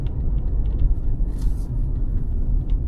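Kia K5 taxi driving through city streets in Dnipro, heard from inside the cabin as a steady low engine and road rumble with continuous tyre noise and no talk.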